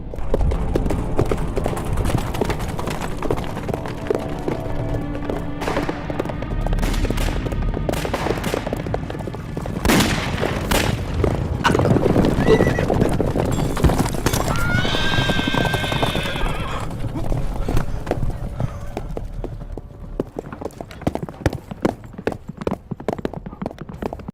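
A horse gallops with rapid clip-clopping hooves and lets out loud whinnies in a Chinese film escape scene where riders flee bandits, with gunshot-like bangs and action noise mixed in over a long, busy stretch.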